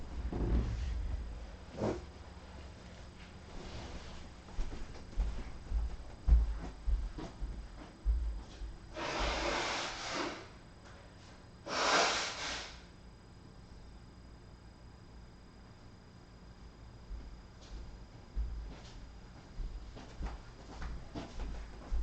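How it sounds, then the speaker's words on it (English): Two short, forceful nose blows into a tissue, close and loud, surrounded by quiet rustling and handling. "I have to blow my nose again."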